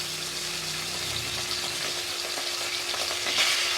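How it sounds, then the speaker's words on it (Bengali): Turmeric-and-salt-coated khoira fish fry in smoking-hot mustard oil in a kadai, giving a loud, close, steady sizzle and spatter that swells slightly near the end. "নুন হলুদ মাখানো মাছগুলি কড়াইতে দিয়ে দেব।"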